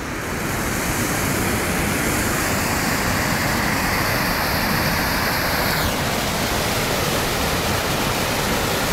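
A river rushes steadily past a village, a loud, unbroken broadband roar of flowing water that holds constant throughout with no voices.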